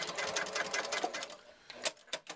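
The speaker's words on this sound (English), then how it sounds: "I'm going to sew across the bottom of this about 1/4 inch from the end." A sewing machine stitches across the bottom of a fabric tube about a quarter inch from the end, a close, rapid mechanical chatter that runs fast, slows, then finishes in a few short bursts.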